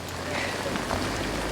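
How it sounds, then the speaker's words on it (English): Steady, dense rain falls outdoors during a horse eventing competition in a thunderstorm, a continuous hiss of drops hitting surfaces close by, with no clear talk. "It's just me in the rain now."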